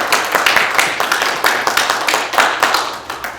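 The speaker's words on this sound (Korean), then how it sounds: "큰 박수로 한번" Church congregation at a Sunday service claps for a pastor and his wife, a close, loud burst of clapping with strong, fairly regular pulses that keep a steady rhythm throughout.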